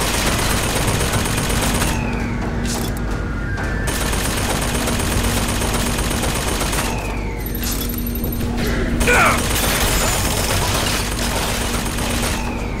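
A turret in Bioshock Infinite sprays sustained machine-gun fire, dense rapid bursts that run almost nonstop, broken by brief pauses, metallic whines and a few impacts.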